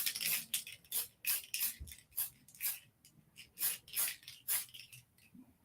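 Gray spray paint hisses from a can onto a surface in short, repeated bursts about every half second, close and clear, with no talk.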